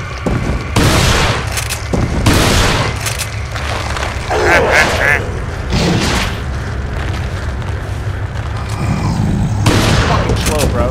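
Resident Evil 4 gameplay with repeated booming gunshots in bursts, heavy impacts and mechanical clatter, loud and close, alongside someone talking.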